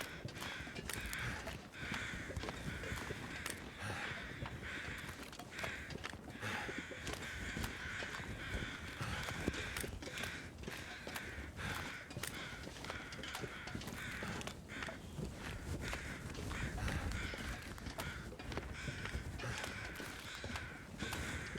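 Crows caw intermittently over a dense, noisy background of rustling and footsteps, the calls harsh and repeated throughout, in the video game The Long Dark.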